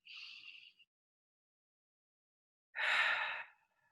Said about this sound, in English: So just a few deep breaths.